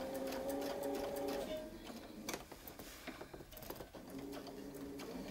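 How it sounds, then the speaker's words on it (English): A sewing machine stitching around a quilting template while the fabric is guided, a close mechanical hum of rapid needle strokes that pauses briefly in the middle with small clicks and handling, then resumes. "All we're doing is moving the template, lining up that reference line, stitching around."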